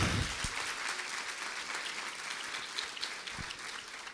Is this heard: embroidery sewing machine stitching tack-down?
no